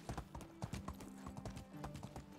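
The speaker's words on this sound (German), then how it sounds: "wir reiten jetzt hier so ein bisschen entlang" Hooves of a ridden horse in the game Medieval Dynasty, a rapid, even clip-clop of close, crisp hoofbeats over a faint low hum, with no talking.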